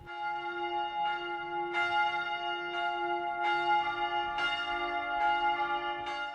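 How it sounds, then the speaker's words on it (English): Church bells of the Frauenkirche in Dresden peal in a steady, overlapping sequence, each strike ringing out with a bright attack and a long, humming decay. They sound fairly close and full, with no voices. "I wanted to use the bells of the Frauenkirche because they seem to be such a symbol of the church"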